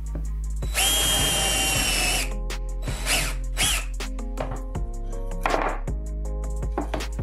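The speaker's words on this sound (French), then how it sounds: "Cette protection simple ne vous permettra pas de percer complètement à travers le plateau de table." A power drill fitted with a collar stop bores into a wooden tabletop: a loud sustained drilling burst up close, then a series of short clicking, ratcheting stops and brief spins as the bit bottoms out.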